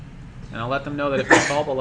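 During a software demo, a person sneezes in one short, sharp burst that cuts across a man's steady speech near the end.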